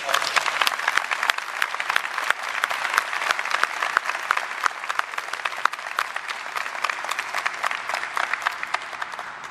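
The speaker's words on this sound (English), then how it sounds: "if we can get the parents and the guests to give an applause for everyone." Parents and guests applauding at a squadron graduation ceremony, loud sustained clapping from a crowd with many sharp individual claps standing out, continuous and close.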